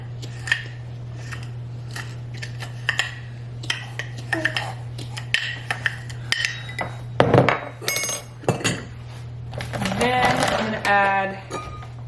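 Sugar and salt mixed together in a bowl with a utensil give a series of light clinks and scrapes against the bowl, tapping in an irregular rhythm with brief louder scraping bursts, over a steady low hum.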